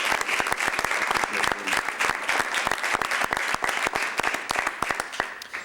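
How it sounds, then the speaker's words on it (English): Loud, close applause from an audience at a Lighthouse for the Blind jobs announcement event honoring the board, dense and continuous with crisp individual claps throughout. "Let's give Bill and the entire Lighthouse for Blind board a great round of applause"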